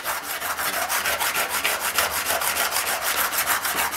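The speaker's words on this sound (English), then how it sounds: "I just hold the scraper at 90 degrees on the rough side" Cabinet scraper held at 90 degrees and rubbed on the rough side of a slipstone, a close, loud rhythmic rasping scrape repeating in quick even strokes.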